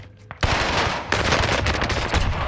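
Rapid automatic fire from an Owen gun in Call of Duty Warzone, a sustained loud burst of close gunshots that stops briefly and then resumes, with no talking over it.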